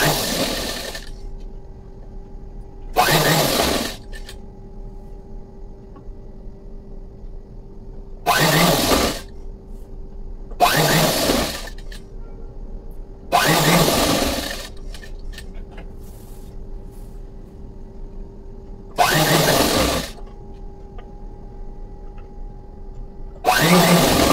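A sewing machine stitching fabric, with several short loud bursts of rapid mechanical whirring separated by quiet pauses and a faint steady background hum.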